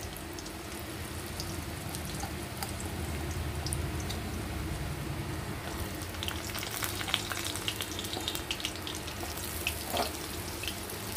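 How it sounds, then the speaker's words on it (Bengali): Cut potatoes fry in hot oil with nigella seeds for an okra and potato chorchori, giving a steady, close hissing sizzle with occasional scraping and clinking of stirring in the pan. "প্রথমে আলুটা একটু ভাজা ভাজা করে নেব"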